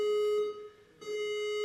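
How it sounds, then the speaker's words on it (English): A fire alarm in a parliamentary assembly chamber sounds a loud, steady electronic tone that cuts off briefly and then resumes. "I think that's a fire alarm."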